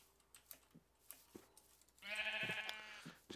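A sheep bleats in the video game Minecraft, a single wavering baa standing out loudly after faint scattered clicks and taps.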